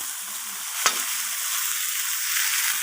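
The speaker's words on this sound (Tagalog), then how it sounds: "Tapos ilalagay ko na yung chicken guys." Chicken feet drop into a hot pan for a spicy turmeric adobo: one sharp thud lands early, then a steady, loud, close sizzle of frying carries on alone to the end.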